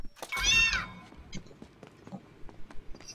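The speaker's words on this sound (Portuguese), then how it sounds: "E o gato tá miando aqui em cima." A cat meows once, loud and close, with a drawn-out tonal cry, followed by scattered clicks and muffled game noises.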